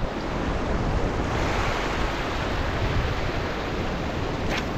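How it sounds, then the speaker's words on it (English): Strong wind roars steadily across a clear-water bay during fishing, a loud, unbroken rushing blast buffeting close to the microphone with no other sounds. "So much wind."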